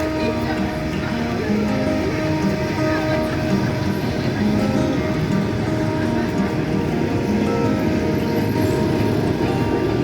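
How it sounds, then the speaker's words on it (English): A Bishkek–Moscow passenger train pulls out of the station, a steady loud rumble of wheels and cars rolling continuously past, with broadband noise filling the whole stretch. "The train from Kyrgyzstan is leaving for Moscow."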